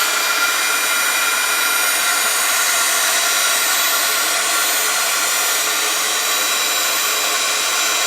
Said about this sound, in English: once you've given it a little bit of heating from the back, you can then go to the front